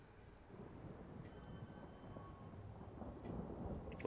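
A thunderstorm in a video game: steady rain and low rolling thunder, faint and constant across the whole stretch, with no talk.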